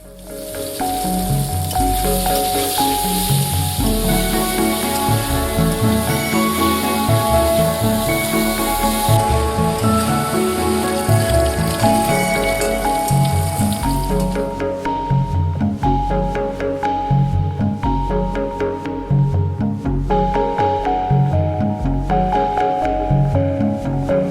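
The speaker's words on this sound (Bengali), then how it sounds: "এবার কাঁচা কলাগুলোকেও প্রায় আশি শতাংশ ভেজে নিতে হবে" Raw green bananas fry in hot oil, giving a loud, steady sizzle throughout with a constant crackling texture and occasional stirring, no voices.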